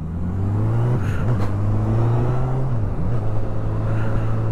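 Honda CB1000R Black Edition motorcycle engine running near and loud, a steady low drone that swells as the revs rise and dips twice briefly with throttle changes, no talking.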